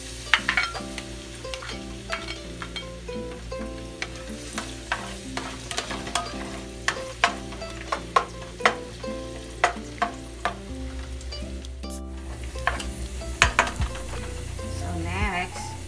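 Garlic sautés in oil in a pan over medium-high heat for ginisang ampalaya, making a steady sizzle with frequent sharp clicks and scrapes from stirring, close and fairly loud.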